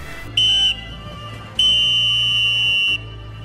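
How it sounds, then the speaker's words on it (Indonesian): A referee's whistle ends the first half of a football match: a short shrill blast, then a longer sustained one, loud and close. "peluit panjang tanda berakhirnya babak pertama pun dibunyikan"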